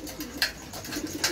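Pigeons coo softly in a couple of short bursts at night feeding time, moderately near over a quiet background.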